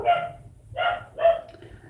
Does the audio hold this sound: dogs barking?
yes